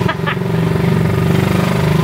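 Suzuki Raider 150 motorcycle engine running steadily with a constant droning hum, loud and close throughout, with brief voice-like bursts near the start.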